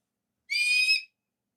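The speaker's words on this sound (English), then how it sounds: "hear the hawk" A hawk gives one short, shrill, tonal scream lasting about half a second, clear and isolated against silence.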